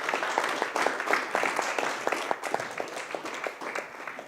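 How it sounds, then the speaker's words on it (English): An audience at a studio talk event gives warm applause, with many hands clapping in a brisk, continuous patter. A few louder individual claps stand out, and it sounds moderately distant and steady for about four seconds. "Warm applause."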